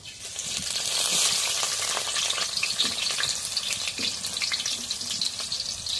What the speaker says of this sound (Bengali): করার তেল দিয়ে দিই এখন পেঁয়াজ কুচি দিয়ে দিই